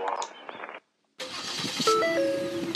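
A car engine starts up in a Roblox roleplay driving game, cranking after a brief silence, then settling into a steady hum with rising electronic tones layered over it.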